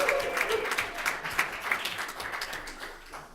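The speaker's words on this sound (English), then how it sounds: "So please, a big Verde round of applause for Commissioner Hochschild." An audience claps for Commissioner Hochschild at an urban transportation conference, a steady, dense round of applause filling the room throughout with no pause.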